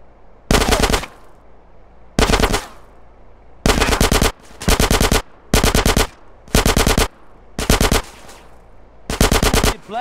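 Bursts of rapid machine gun fire in the video game GTA San Andreas mission pack, about eight loud, close volleys of varying length separated by short gaps, with no talking.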